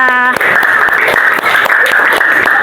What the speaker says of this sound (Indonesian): Oke, tepuk tangan untuk Eva